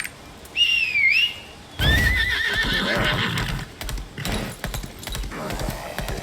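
A horse in the video game Lost Ark neighs loudly twice in close succession, a shrill whinny followed by a longer, rougher one, with hoofbeats clopping beneath and brief pauses of quiet between.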